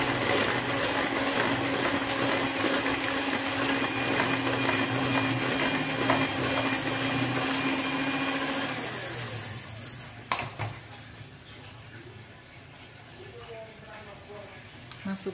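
An electric hand mixer beats pumpkin cake batter of flour, powdered milk and pumpkin, a loud steady whirring drone that runs for about nine seconds and then stops, leaving quieter clatter and kitchen handling sounds.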